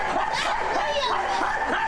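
A man imitates a dog barking and yipping in a run of short voiced barks and whines, with laughter mixed in.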